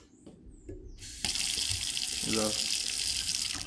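Water running from a kitchen tap through a water filter: a steady, loud rushing hiss starts abruptly after a brief quiet moment and keeps flowing, with a short spoken word over it.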